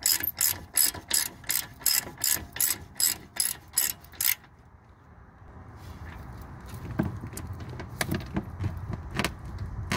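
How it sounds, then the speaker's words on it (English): A wrench ratchets in a quick run of about ten sharp, evenly spaced clicks while brake caliper bolts on a Mercedes S550 are tightened, then stops, leaving softer workshop handling noises and a few scattered knocks. "we're gonna tighten up these two bolts. So here I have my wrench in here"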